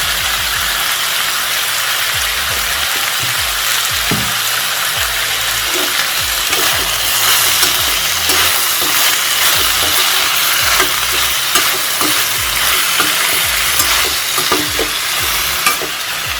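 Chopped capsicum sautés in a pan for a tasty capsicum kootu, a loud continuous close-up sizzle with faint stirring scrapes throughout, no voices.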